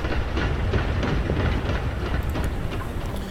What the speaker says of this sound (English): And let's take the train as far as it goes.